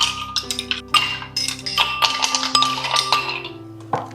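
Ice cubes drop into a glass of fresh juice made from ripe and raw mangoes, giving a string of sharp, close glassy clinks and rattles with brief pauses between them.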